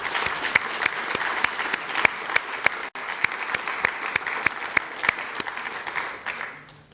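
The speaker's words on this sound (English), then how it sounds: "I would like to propose that we give her a round of applause." Sustained applause from a staff assembly audience honouring Dr. Retief, dense steady clapping with sharper individual claps throughout, tapering off near the end.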